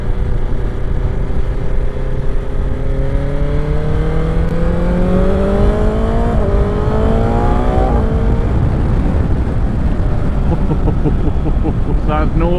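Motorcycle engine revving and rising in pitch during a ride near Church Stretton, a loud continuous drone with several climbing rev sweeps, wind rush underneath and a voice talking over it.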